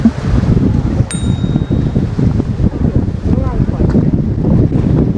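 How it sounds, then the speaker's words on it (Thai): Strong wind gusts buffet the microphone at a reservoir dam, a steady loud rushing roar with shifting bursts throughout. "ลมแรงๆ"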